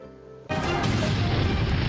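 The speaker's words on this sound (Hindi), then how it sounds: "धमाका हो गया भाई।" A sudden loud blast erupts after a quiet tonal lead-in, followed by a dense, sustained roar of rumbling noise.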